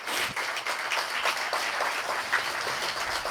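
An audience at a community centre grand opening claps for Patricia Walters, a steady, fairly dense round of applause from a crowd, with faint voices mixed in.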